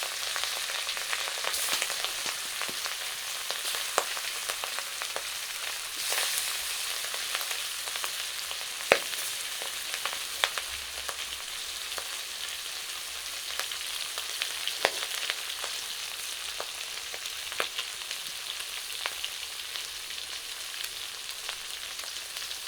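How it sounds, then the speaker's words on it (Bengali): Pangas fish coated in salt, chili and turmeric fries in hot oil, giving a long, steady sizzle with scattered sharp pops and crackles. It is moderately quiet and continuous, with no talking. "পাঙ্গাস মাছ ভাজবো এখন সুন্দর করে, লবণ মরিচ দিয়ে হলুদ দিয়ে সব কিছু মাখিয়েছি"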